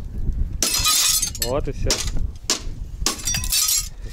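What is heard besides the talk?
glass being smashed with a hammer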